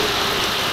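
Heavy storm rain pours steadily onto open and partly covered ground, a dense continuous hiss with no gaps in the short stretch, the gusty wind blending into the roar.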